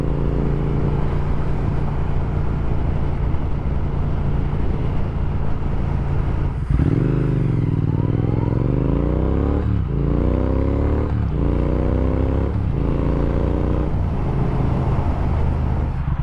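A Triumph Speed Twin motorcycle accelerates hard to pass another vehicle on an evening ride, the engine note rising through several gear changes over wind roar.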